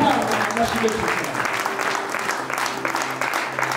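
An audience claps together, a dense wash of applause that holds fairly loud and steady throughout, with a voice speaking over the clapping.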